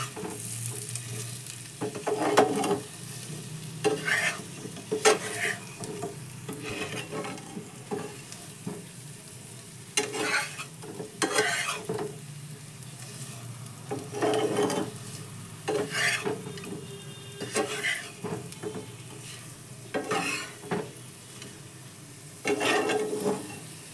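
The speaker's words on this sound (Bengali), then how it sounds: "দিয়ে আবার একটু ভেজে নেবো মশলার সাথে" Boiled potatoes fry with chili and turmeric powder for aloo dum fuchka, giving a quiet close sizzle broken by repeated bursts of stirring and scraping in the pan, with no talking.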